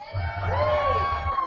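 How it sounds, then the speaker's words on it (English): A poetry slam audience cheers and whoops in a large room, with loud sustained shouting and whistling from the crowd in one continuous burst. "Keep that applause going for Westside"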